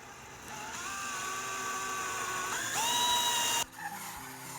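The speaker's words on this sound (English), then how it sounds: "All right, so I'm going to drill it" A power drill bores a hole in a thermostat wall plate, a steady whirring whine that rises in pitch partway through and then stops abruptly, close by and with no talk.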